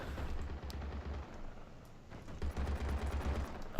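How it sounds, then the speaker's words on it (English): A mech in the Pantropy video game fires rapid bursts of gunfire, two strings of fast, evenly spaced low thumping shots separated by a brief pause, moderately loud. "The gunshots of the mech."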